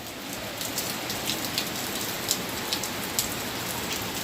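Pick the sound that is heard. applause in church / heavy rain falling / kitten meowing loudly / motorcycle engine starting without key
heavy rain falling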